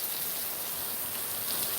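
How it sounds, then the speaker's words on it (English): Steady rain falls and grows heavier, a dense even hiss of drops on surfaces that stays continuous and fairly close throughout, with no voices. "Raining is strengthening."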